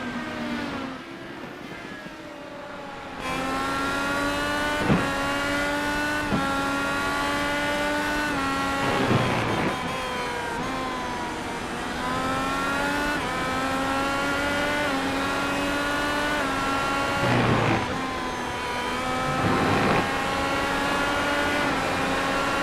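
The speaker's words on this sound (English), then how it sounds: "Hear that early shift into 6 running into the corkscrew" Simulated IndyCar engine in iRacing at WeatherTech Raceway Laguna Seca, a loud continuous high-revving whine that climbs through the gears with sharp dips at each shift, including an early upshift into sixth approaching the corkscrew; no talking.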